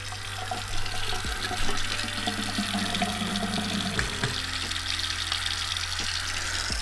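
Water runs steadily from a newly replaced bathroom faucet into the sink, a close, continuous rushing flow with a faint underlying hum and a few small knocks.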